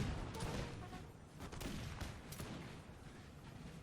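Musket volleys crackle from La Haye Sainte into the French flank at Waterloo in Napoleon Total War, a dense, distant rattle of massed gunfire that stays fairly faint throughout.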